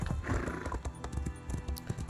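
Horse hooves clip-clopping in the video game Elder Scrolls Online, a quick uneven run of hoof thuds at close range with faint game ambience behind.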